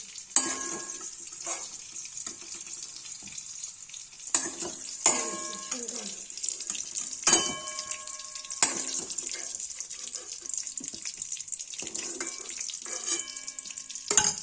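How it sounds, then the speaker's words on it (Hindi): Turnip pieces frying in a pan for Kashmiri rajma, a gentle sizzle with repeated clinks and scrapes of a utensil against the pan, alongside some watery splashing. "शलगम फ्राई हो रहा है"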